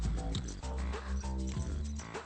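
A dog in a comedy film scene gives a dense run of whimpering yips and short barks that rise and fall for about two seconds.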